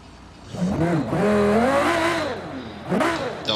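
Engines of AI-driven cars in BeamNG.drive rev up together, a loud droning whine that climbs and dips in pitch, then rises again near the end, with no talk.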